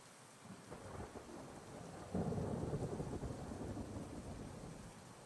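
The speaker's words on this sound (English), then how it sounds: "Oh, more rain again." Rain and thunder in a post-apocalyptic industrial colony city builder game, a steady low rumble of rainfall that swells into a louder thunder roll partway through, distant and without voices.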